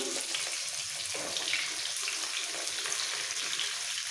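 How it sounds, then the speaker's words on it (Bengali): Carrot, papaya and pointed gourd fry together in hot oil for a Bengali sukto, giving a steady, even sizzling hiss that runs unbroken throughout with no voices. "এই শক্ত সবজিগুলো একসাথে ভেজে তুলে নেব।"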